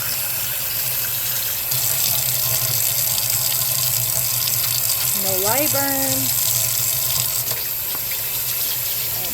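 Steady water running from a tap at a sink during handwashing, with a continuous hiss throughout, a brief voice near the middle, and a few knocks.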